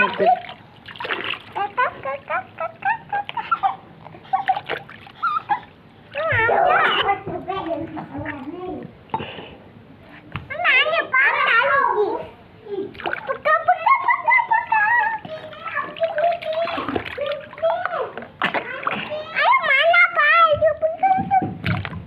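Water splashes and dribbles repeatedly as a child is bathed and has his feet washed, with children's voices chattering and squealing over the splashing throughout.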